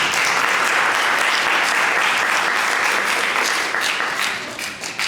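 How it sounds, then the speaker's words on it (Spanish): Crowd at an international live arts gathering clapping for a guest, a loud, full burst of applause that holds steady before starting to thin out near the end, with no voices over it. "Un aplauso para ella."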